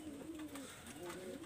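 Pet pigeons coo softly, a faint, low, wavering call repeated a couple of times close by, with no speech.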